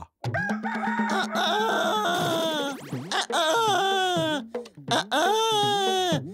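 A cartoon character's voice imitates a rooster crowing, a loud, close series of warbling cock-a-doodle-doo calls with pitch sweeps and short breaks between, delivered as a vocal impression.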